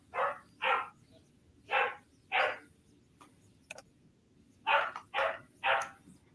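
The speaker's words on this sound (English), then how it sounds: "can you hear my dog?" A pet dog barks from behind three closed doors, giving muffled, distant barks in quick bursts of two or three with short pauses between, over a quiet room hum and no talking.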